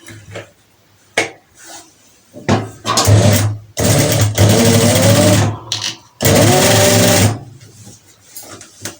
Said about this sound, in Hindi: इस तरीके से इसको किनारे किनारे पे सिलाई लगा कर अटैच कर लूंगी।